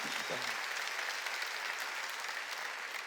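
A church congregation at a Sunday service applauds steadily, a dense continuous clatter of many hands filling the room from start to end, with a brief low voice near the start.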